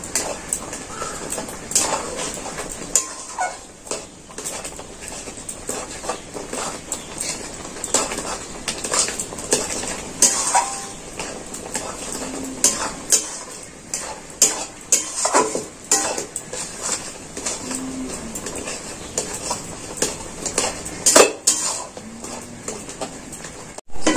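Potato and semolina dough being stirred and worked in a pan, irregular scraping and clattering of a utensil against metal with repeated taps and knocks, close and fairly loud throughout.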